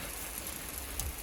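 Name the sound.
rain falling again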